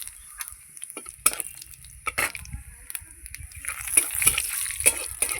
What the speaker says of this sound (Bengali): এবার আমি তেলের মধ্যে ফোড়ন দেব গোটা জিরে, একটা শুকনো লঙ্কা,